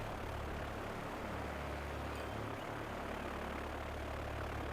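Propeller airplanes flying in the Transport Fever game (European map, Junkers-era aircraft), a steady loud broadband engine drone with a low hum, continuous throughout with no talk.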